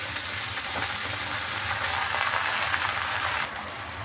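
Malabar spinach and chopped vegetables sizzle and fry in a hot pan, a steady dense crackle lasting throughout with a slight drop in intensity near the end, no voices present.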